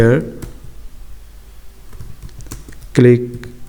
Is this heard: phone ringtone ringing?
no